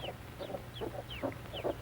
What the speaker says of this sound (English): Mother hen keeps her baby chicks warm.